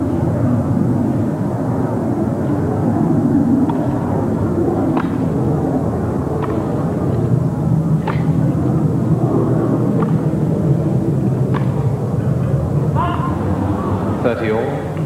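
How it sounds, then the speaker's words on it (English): Heavy aircraft noise roars overhead above a tennis match at the 1989 Wimbledon semifinal, a steady broad rumble filling the whole stretch, with a few sharp ball strikes and a brief voice over it. "Heavy noise of the aircraft overhead."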